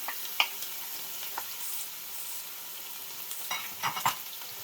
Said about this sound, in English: We'll fry this off for about a minute or so.